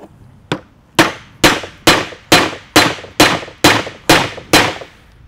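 Ten sharp metallic hammer blows on a Fast Cap pocket chisel, evenly spaced and loud, each ringing briefly before the next strike.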